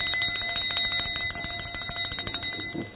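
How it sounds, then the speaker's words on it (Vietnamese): Hand-cast natural brass bell rung rapidly and repeatedly, bright metallic strikes with a shimmering sustained ring, close and loud with no voices. "một con chuông đồng rất là hay luôn các bác nhá. Đấy, chuông bằng đồng."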